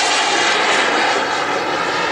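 Model English Electric Lightning jet, a 43 kg aircraft powered by two Jetcat 120 turbine engines, cruising near 150 mph; a loud, steady broadband roar holds evenly throughout with no talk.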